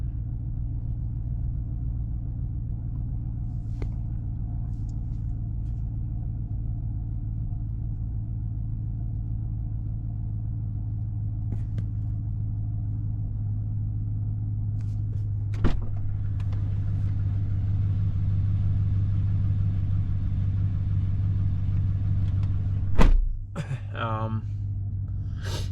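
A Chevrolet Silverado pickup with an MBRP exhaust idles after a cold start, giving a smooth, steady low rumble heard close for a long stretch, with a brief thump and rattle near the end.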